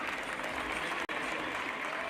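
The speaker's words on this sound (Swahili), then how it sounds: "Wapi makofi na makelele for His Excellency, wapi makofi." A crowd at an opposition political summit applauds a speaker, a dense steady wash of clapping with a brief dropout midway, fairly distant and sustained.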